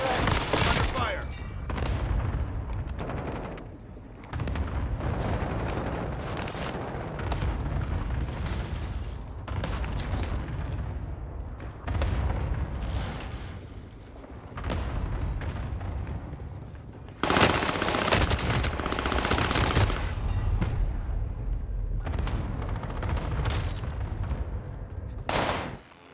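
Dense Warzone video game battle with cluster strike explosions and rapid machine-gun fire, loud and near, bursts surging and pausing repeatedly with a big blast swell near the end; game voice callouts occur between the shots.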